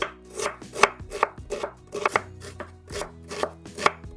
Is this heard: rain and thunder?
no